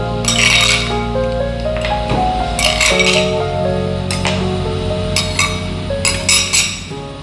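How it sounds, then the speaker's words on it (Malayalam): Ice cubes clink as they drop into a papaya smoothie in a series of short, bright, close bursts over steady background music. "ഇതിൻ്റെ മുകളിലേക്ക് നമ്മുടെ ഐസ് ക്യൂബും കൂടി ഇട്ടാൽ നല്ല തണുത്ത സ്മൂത്തിയായി."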